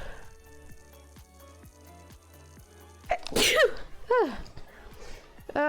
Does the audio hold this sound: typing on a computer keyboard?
no